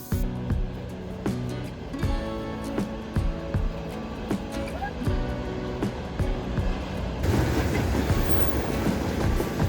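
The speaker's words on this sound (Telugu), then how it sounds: "½ an hour to 45 minutes తర్వాత మా ట్రైన్ స్టార్ట్ అయింది." A train running on rails gives a loud, steady rumble with rhythmic clickety-clack from the wheels over rail joints, growing denser and louder toward the end.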